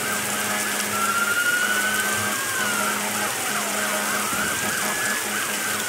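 An ambulance siren in the Roblox game Emergency Response wails in rising and falling sweeps, steady and prominent, over a low droning hum.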